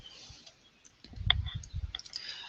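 Two or three faint, sharp computer mouse clicks spaced apart while working in an Excel pivot table, heard close against a quiet background.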